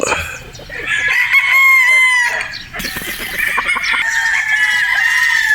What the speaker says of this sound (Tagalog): Yung inyong gwapong brood stag. Boston Roundhead.